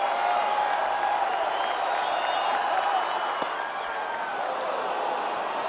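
A baseball stadium crowd of over 31,000 keeps up a steady, distant roar and murmur throughout, with faint cheers rising from the stands.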